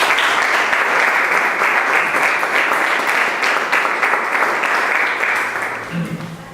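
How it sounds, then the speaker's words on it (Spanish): An audience at a book presentation breaks into loud sustained applause, a dense wash of clapping that fades slightly at the end. "vamos a darle un aplauso a Santi."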